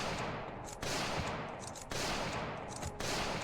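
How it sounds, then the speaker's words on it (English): Bursts of gunfire in the Project Zomboid zombie survival game, sounding as dense, sustained volleys that start and stop in three or four blocks, muffled and somewhat distant, with no voices. "Sounds like quite a bit of gunfire"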